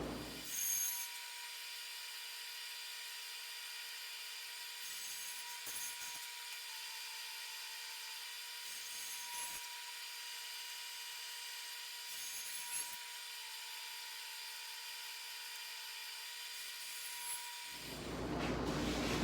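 A running table saw removes waste wood in passes set with shims, giving a steady high whine that holds evenly for most of the stretch before it stops.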